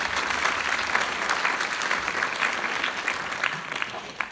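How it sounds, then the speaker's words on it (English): Steady, dense audience applause fills the whole stretch, many hands clapping at once at an even loudness with no voices over it. "so give yourself a round of applause"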